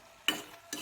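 Two short scraping stirs of taro pitika in a pan, soft and close with brief pauses between them.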